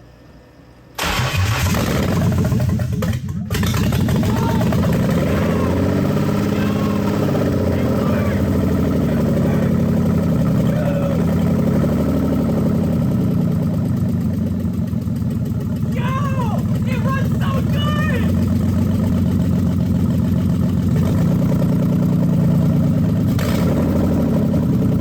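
A BMW E36 328ti inline-six cranks and catches, then settles into a loud, steady idle with slight wavering, close by, while people talk over it.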